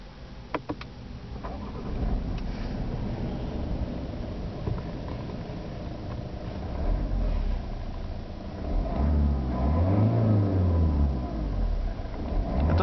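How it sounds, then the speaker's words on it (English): A 2012 Kia Optima Platinum's quiet diesel engine idles as a steady low rumble, with a swelling low-pitched hum partway through and no talking. "It does have a very quiet diesel engine."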